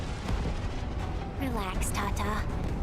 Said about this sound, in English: as explosions ring on in the background